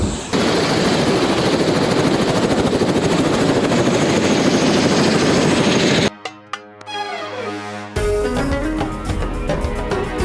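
A loud, steady helicopter rotor thrum over Dubai fills most of the clip, then cuts to a quieter stretch with other mechanical sounds and a tonal passage.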